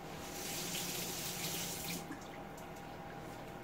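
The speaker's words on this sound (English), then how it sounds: "Let me rinse my tongs here." Kitchen tap water runs steadily while tongs are rinsed under it, a close, hissing flow for about two seconds before it stops and leaves only quiet room tone.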